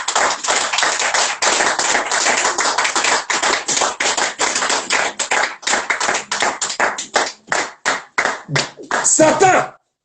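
Congregation at a church service applauding the Lord: loud, sustained clapping from many hands that starts dense and gradually thins into slower, separated claps, ending with a short burst of voices.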